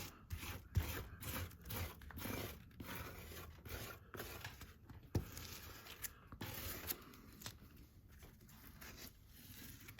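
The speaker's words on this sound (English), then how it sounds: "let me just scrape as much of this as I can off of here." Close, quiet scraping of light fluffy modeling paste off a stencil, a continuous series of short rasping strokes with brief pauses.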